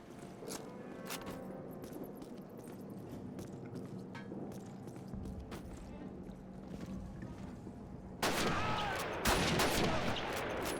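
Rifle gunfire in a Call of Duty game, rapid volleys and bursts under busy battle noise, growing louder and denser toward the end, with talking in the mix.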